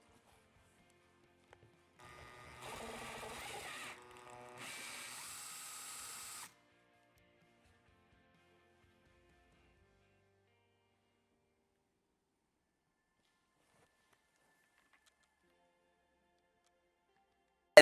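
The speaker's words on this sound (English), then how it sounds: "Then we'll drill through this exact spot using a larger bit." Power drill with a larger bit boring through a BMW F10 door trim piece: a whining burst of about two seconds, a short pause, then a second shorter run, followed by long silence.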